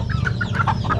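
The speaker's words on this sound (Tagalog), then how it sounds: "Pero yung manok natin dito na silke, isa na lang ang natira." A silkie chicken clucks in a rural yard, a quick series of about six short, close clucks in a brisk rhythm over a low background rumble.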